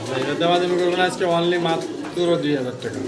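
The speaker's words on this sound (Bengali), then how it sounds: "লাল টকটকা দেখতে পাচ্ছেন কিং কবুতর" Red king pigeons cooing loudly and close, repeated rolling calls in bursts, with a person talking in the background.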